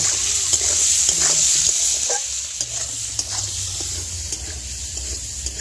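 Prawns fry in a pan with a steady sizzle, joined by scraping stirs and occasional clinks of a spatula against the pan, close and clear without talk.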